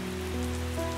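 Steady rain falls in a soft continuous wash beneath sustained low, humming tones, with no voices.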